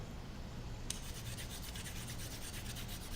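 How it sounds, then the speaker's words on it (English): A carrot being grated with a peeler, heard as a faint, steady dry rasping and rubbing that turns into quick, regular scraping strokes partway through, with no talking. "Grate the carrot with a peeler."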